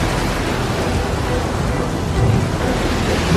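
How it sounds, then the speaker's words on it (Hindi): A storm at sea roars as a dense, loud wash of rain and wind noise with low rumbling, steady and unbroken with no voices. "मैं जानता हूँ ये भयंकर तूफान मेरी वजह से तुम पे आया है।"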